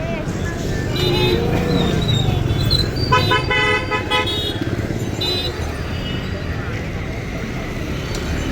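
A KKRTC bus pulls out of Sandur bus station, its engine rumbling close by amid traffic noise and a short honk of a horn, with people talking over it.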